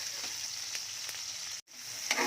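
Pork lechon sizzles in a frying pan with sauteed vegetables, tomato and luffa gourd, giving a steady close crackling hiss with a few stirring clicks and one brief break.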